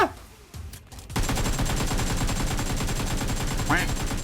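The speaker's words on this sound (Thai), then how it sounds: "มีการยิงกันเกิดขึ้น" Gunfire in the mobile game PUBG Mobile rattles as dense, continuous automatic fire, loud and sustained for several seconds after a quieter start.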